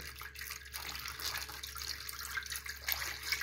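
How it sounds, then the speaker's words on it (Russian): Water pours steadily into a pot of stuffed quinces, filling it halfway, a continuous splashing rush close by with no talk. "До половины вот так вот заливаю водой."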